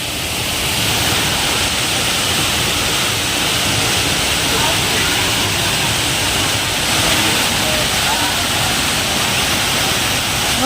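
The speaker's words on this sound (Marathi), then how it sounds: "कोसळणारं पाणी चैतन्याची अनुभूती देतं" A steady, loud roar of falling water fills the whole stretch, dense and unbroken like a nearby waterfall; the Savdav waterfall near Kankavli.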